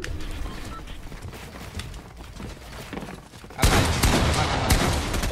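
Rapid gunfire in a Fortnite wager match, with a dense stream of shots and impacts that turns sharply louder and closer partway through, continuous to the end.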